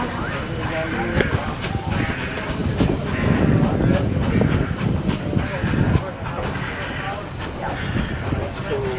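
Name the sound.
Durango–Silverton train going around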